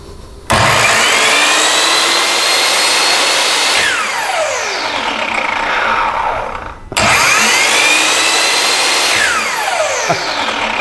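A 15 amp, 120 volt saw motor rated at 4,500 RPM spins up twice to a loud, steady high whine, dropping briefly between the two runs before starting again. No one talks.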